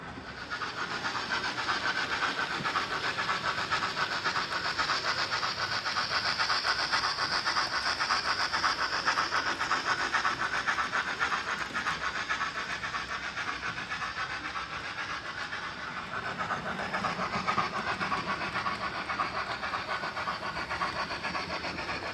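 A loud, continuous hissing model railway locomotive sound with rapid, gritty chuffing texture runs without a break throughout.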